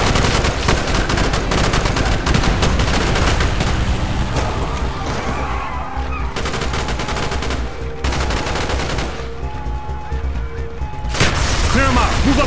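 Covering gunfire in the Call of Duty: Black Ops story campaign, during a street fight: sustained, loud automatic-weapon bursts rattle almost without pause, with brief lulls, mixed with indistinct voices and battle noise.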